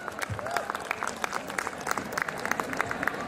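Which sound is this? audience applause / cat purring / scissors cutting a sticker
audience applause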